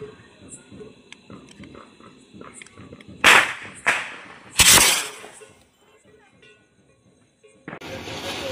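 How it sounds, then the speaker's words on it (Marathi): Diwali firecrackers burst close by in a few loud, sharp bangs, the first ones spaced a fraction of a second apart and a later one stronger and longer, with people talking and chattering in the background throughout. "आपले फटाके फोडणं झालेले आहे"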